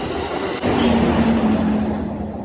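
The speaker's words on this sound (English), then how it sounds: "I hear a train coming. I live next to the train." A train passes close by a home, a loud continuous rumble and roar of rail cars with a steady squealing wheel tone, sounding alone without talk.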